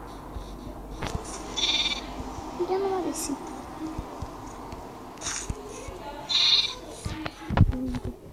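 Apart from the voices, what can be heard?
sheep bleating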